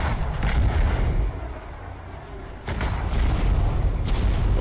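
Ship cannons fire in a video game while hunting a Hydra, coming as repeated loud booming blasts over a rumbling battle background, with a short quieter lull midway and no talking.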